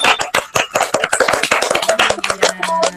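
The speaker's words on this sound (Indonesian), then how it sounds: "Yuk kita beri tepuk tangan atas keberaniannya" Classroom applause from pupils, a quick run of sharp hand claps close by, rewarding a student's courage; a faint steady tone hums beneath the later claps.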